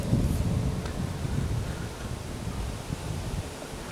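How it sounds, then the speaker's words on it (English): Gusty wind buffeting an outdoor microphone, a steady low rumbling roar that holds for several seconds with slight swells and no voices. "A little windy today, so bear with me."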